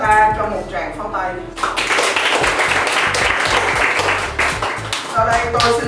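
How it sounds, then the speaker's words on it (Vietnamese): A seminar audience at an international school's scientific conference on traditional Indian culture bursts into applause after a brief stretch of talk, steady dense clapping filling most of the moment with a voice returning near the end. "Xin tất cả chúng ta cho một tràng pháo tay."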